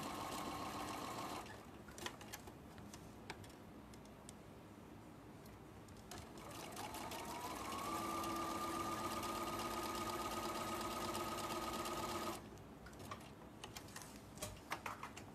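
A sewing machine stitches quilt block pieces for a sawtooth star block, giving a faint mechanical whir that runs in stretches, one longer steady run in the middle with light ticks and clicks between runs.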